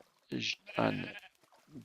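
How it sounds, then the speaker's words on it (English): Sheep bleat in a Minecraft-style survival video game, with two or three wavering bleats close by and some speech mixed between them. "And over here, yeah, there's a sheep."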